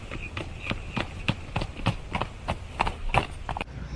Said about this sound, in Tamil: உண்மையாவே அப்ப வீதியில குதிரை ஒண்ணு வேகமா வர சத்தம் கேட்டது